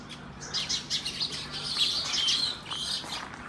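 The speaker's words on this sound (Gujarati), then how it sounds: "બાકી સવારના પોરમાં પખીડાઓનો કલરાવ સંભળાય છે. જો એમાં આમાં ખાસ કરીને ચકલિયું છે" Sparrows chirping in the morning on a farm, a steady chatter of many small birds tweeting at once, somewhat distant and continuous, with no talking.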